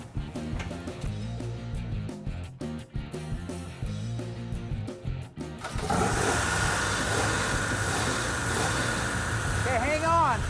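A 1970 Dodge Challenger R/T with a 440 engine and 4-speed fires up about halfway through, after people talk. It settles into a loud, steady, rumbling idle close by that fills the rest of the clip.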